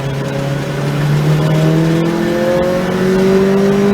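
A car accelerates hard on a race track, its loud engine note climbing smoothly and steadily over a few seconds, with no talk heard.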